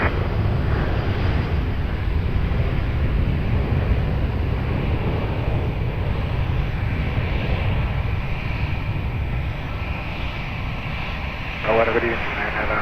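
A jet airliner rolls for takeoff on runway 20 at Lisbon Airport, its engines a loud, steady broadband roar that holds throughout, with radio chatter and voices faintly underneath.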